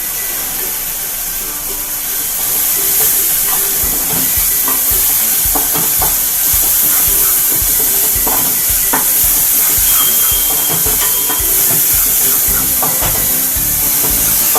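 Paneer masala with yogurt and garam masala frying in oil, a loud continuous sizzling hiss with a rapid run of spatula scrapes and taps through most of the stretch.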